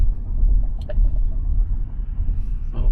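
Cars pass a waiting Cybertruck on the road as a steady low rumble of tires and engines rolls close by and alone.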